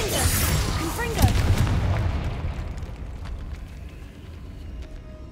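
Explosive spells blasting in the game Hogwarts Legacy: a loud booming burst near the start with a heavy low rumble, a sharp crack around one second in, then a long fading roar and debris-like crackle.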